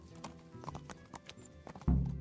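Horse hooves clip-clop in Kingdom Come: Deliverance, a steady series of soft thuds under faint game ambience, ending in a louder low thump.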